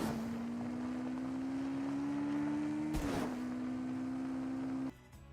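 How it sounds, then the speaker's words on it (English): In Fortnite, a car body's engine hums steadily with a droning tone that rises slightly. A sharp burst cuts in midway and the hum then continues before stopping abruptly near the end. "But actually, here's the car sound."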